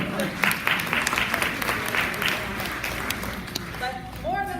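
Crowd at a school meeting claps in applause, a dense patter of hands that fades as a voice begins talking over the end.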